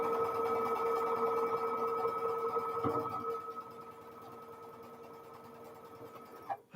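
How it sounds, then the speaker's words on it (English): A sewing machine stitches pieces of fabric together for star quilt blocks, giving a steady, fairly quiet mechanical whir that runs for about three seconds, then fades into a softer hum and stops with a brief clunk at the end. "I flip it over so that I am sewing with that plain piece of fabric down"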